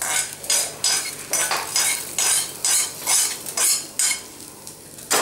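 Ingredients for coriander chutney frying in a pan on high flame, with a utensil stirring in regular rhythmic strokes over a steady sizzle, close and fairly loud, no talking.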